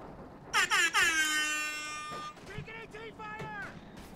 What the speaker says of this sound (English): That, I think, calls for an air horn.